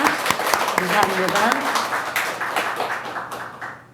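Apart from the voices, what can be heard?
church congregation applauding in welcome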